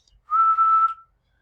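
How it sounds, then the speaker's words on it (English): A person whistles a single steady, pure tone into a live audio input, one sustained note of about three-quarters of a second, clear and close with no other sound. "if you whistle, it's going to give you a sine curve"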